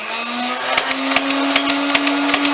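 The flywheel motor of a Nerf Ultra 2 blaster whirs with a steady, loud electric whine close by, broken by a run of light rhythmic clicks.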